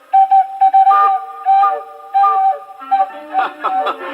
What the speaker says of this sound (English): what a cute, silly whistle he had